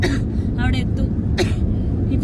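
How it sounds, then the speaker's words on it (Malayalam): A short, harsh cough bursts out once over a steady low rumble of traffic in Namibia, close to the listener. "പകൽ സമയത്ത് എനിക്ക് ഭയങ്കര ചുമ"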